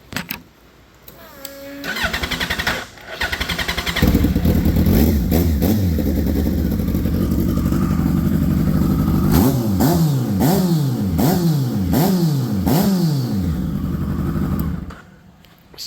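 MS3 motorcycle engine starting up, then idling with a lumpy, uneven beat and revving repeatedly, each blip rising and falling in pitch, loud and close in a shop.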